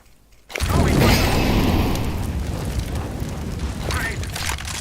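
A bomb explosion in Counter-Strike: Global Offensive: one sudden loud boom after a quiet moment, then a long rumbling roar that slowly fades, with players talking over it.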